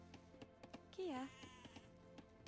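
Sheep bleating in the video game Age of Empires II, a single short bleat rising out of a busy game soundscape with rhythmic clicks and background music.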